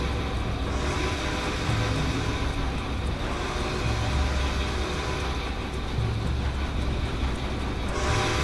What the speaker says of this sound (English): How does that make you feel that I'm driving the train?